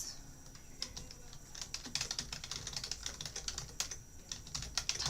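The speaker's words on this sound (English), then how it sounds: "type in your questions and press enter" Rapid, irregular keystrokes on a computer keyboard clatter steadily and close by for the whole stretch, with no voices over them.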